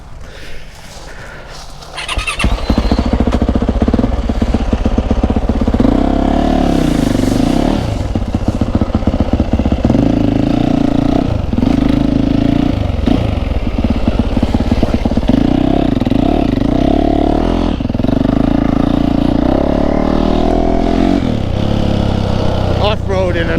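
A Yamaha YZF 450 Monster Edition dirt bike engine catches and runs loud and close, with a rough idle broken by repeated throttle blips and revs rising and falling over the clattering single-cylinder drone, while people talk nearby.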